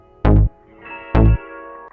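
Two loud bursts of a music sample ring out, each followed by a lingering reverberant tail that hangs and fades in the space between.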